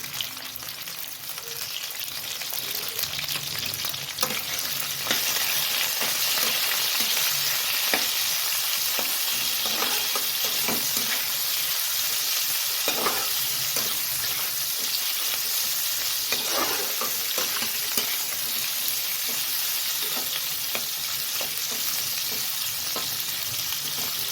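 Chitol fish bones frying in hot oil: a loud, continuous crackling sizzle, close up, holds for over twenty seconds, with occasional stirring taps and pops.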